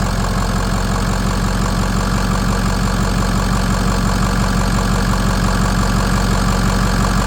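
A Ford 6.0 diesel engine idles with its turbo unplugged, a loud, steady, close rumble with a rhythmic knocking clatter throughout and no voices.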